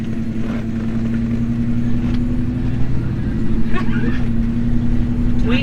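A 1979 Dodge Li'l Red Express pickup truck cruising down the road, its engine a steady low drone from inside the cab, with people chatting over it.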